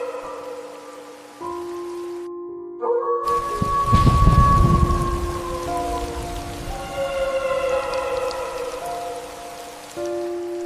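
Heavy rain pours steadily in a village setting, broken by a deep, loud thunder rumble early on and layered under eerie sustained tones that rise and fall, then continue beneath the downpour.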